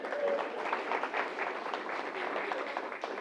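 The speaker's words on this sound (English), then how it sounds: "Let's clap for you guys" A church congregation claps together in a dense, steady wash of applause that holds evenly for a few seconds, with voices mixed in.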